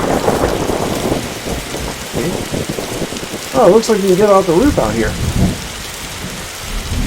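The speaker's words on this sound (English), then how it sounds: "I'd rather not go back out into that storm." Steady rain and rolling thunder of a storm outside in the video game The Darkside Detective, a constant wash of rainfall beneath someone talking, with game sound effects briefly rising over it.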